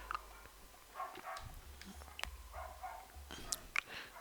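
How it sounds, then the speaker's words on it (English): Neighbours' dogs bark faintly in scattered, irregular bursts at a distance, some sharper yelps standing out, over a quiet background. "Yeah, you thought I was gonna go and shut those dogs up"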